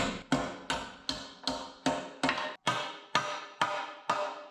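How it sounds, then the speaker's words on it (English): About eleven sharp metallic hammer blows strike a 1967 Toyota Stout truck vent panel in an even, steady rhythm, each ringing briefly before the next, close and alone. "We are gonna take our hammer and try to make this end match"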